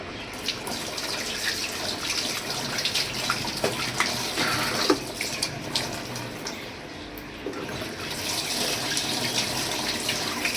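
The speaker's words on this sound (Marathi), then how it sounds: "तर हे पाणी मी कढईमध्ये टाकणार आहे शिजायला." Water runs and splashes into a wok for several seconds, a faint continuous pour with small clinks and drips, no talking.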